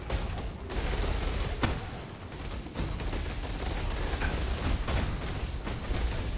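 Corpse explosions in the Path of Exile combat in the Sulphur Wastes map, a dense run of crackling, popping blasts and sharp bursts that continues without pause, with no talking.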